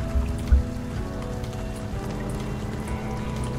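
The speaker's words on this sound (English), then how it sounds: "Is it also raining in the city?" Rain falls over the city in the life-simulation video game Denizen, a soft, even patter of drops on surfaces beneath a low sustained hum and faint tonal music, with a couple of dull thumps early on.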